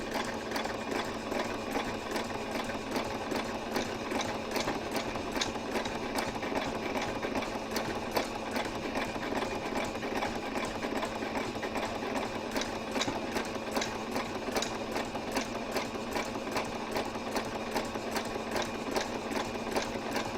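A sewing machine stitches in the ditch along the sashing of a quilted African safari table runner, a fast, even mechanical chatter running steadily and close for the whole stretch with no talk.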